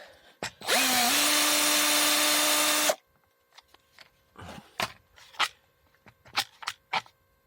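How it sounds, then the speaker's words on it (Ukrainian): A power tool whirs loudly and steadily for about two seconds, unscrewing the bolts of a car starter motor, then stops, leaving quiet clicks and clunks of handling metal parts. "Теж відкручуємо 4 болти на стартер."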